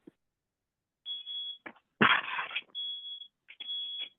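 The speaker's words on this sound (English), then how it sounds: "Whose alarm just went off?" An alarm, likely a smoke alarm, chirps in repeated high electronic beeps with gaps between them, one burst overlapped by a loud clatter of noise.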